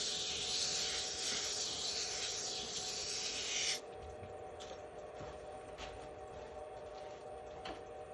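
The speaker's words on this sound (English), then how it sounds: "I run my lathe about, I don't know, 600 RPM when I'm wet sanding" Wet sanding resin on a wood lathe turning at about 600 RPM gives a soft, steady rasping hiss, louder for the first few seconds and then dropping to a quieter continuous rub.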